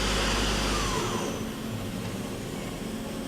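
Doosan Lynx 220A CNC lathe with Fanuc 0iTC control and 6-inch chuck, spindle spinning at speed with a steady, fairly quiet broadband whir that eases slightly after the first second.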